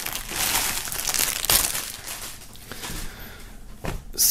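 A shirt unwrapped from crinkly plastic foil during a music box-set unboxing, with close, continuous rustling and crumpling and a few sharper crackles, no talking.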